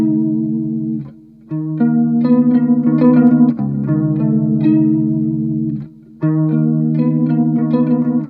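Electric guitar played through a Walrus Audio Julia chorus pedal, a clear, shimmering chorused riff of repeated chords with two short pauses, loud and alone with no voices.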